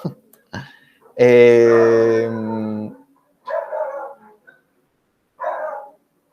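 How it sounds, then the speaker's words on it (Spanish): Dogs bark and howl outside, with a long drawn-out howl followed by a couple of shorter, fainter barks spaced apart, heard fairly close and clear. "tengo unos perros ladrando afuera"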